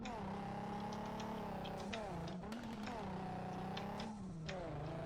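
A car engine in the racing video game MTA:SA during a Baja race drones with steady revs that rise and dip in pitch as it drives, loud and continuous with brief shifts.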